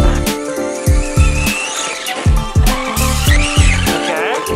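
A fast RC car drives and skids, its high-pitched electric whine rising and falling over repeated sharp tire squeals and scuffs, loud and close throughout a short run.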